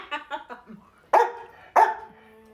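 A pet dog gives a few short whining yelps, then two loud, sharp barks close by, each ringing briefly after it.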